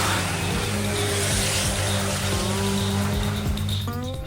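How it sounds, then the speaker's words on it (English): A Dodge Cummins-powered diesel dragster engine at a racing event gives a loud, steady, droning roar that holds throughout, with a shifting pitch near the end. "We have been racing this diesel dragster now for over 10 years"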